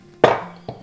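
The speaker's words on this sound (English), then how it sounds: "Just a few turns of my grinder" A hand pepper grinder gives a short burst of crisp grinding while seasoning Polish sour rye soup, then a second, quieter twist follows moments later, close by with no talking.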